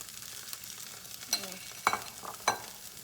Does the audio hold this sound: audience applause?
no